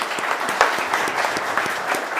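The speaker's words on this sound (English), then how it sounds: "Let's give it a round of applause." A crowd applauds at the launch event for a national elite championship, with lively, dense clapping and some sharper individual claps standing out, continuous and fairly loud throughout.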